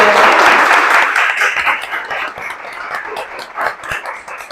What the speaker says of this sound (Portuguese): uma salva de palmas para a comissão